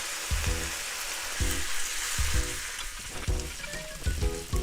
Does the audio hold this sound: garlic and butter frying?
yes